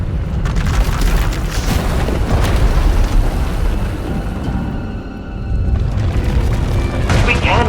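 Runaway Force power erupts in a SWTOR video game scene, a series of heavy booms and rumbling blasts that rise and fall and then swell again at the end, loud and close.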